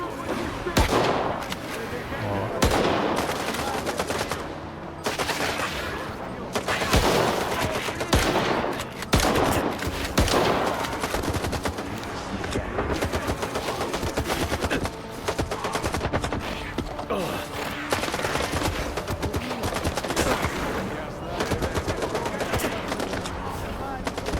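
Rapid bursts of automatic gunfire and scattered shots crackle through a STALKER 2 firefight, repeated volleys at close range, with some speech mixed in among the shooting.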